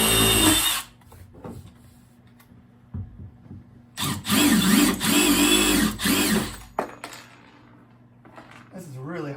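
A power drill grinds into hard plaster while installing an outlet box, loud bursts at the start and in a long middle stretch, with quieter gaps between where a person talks.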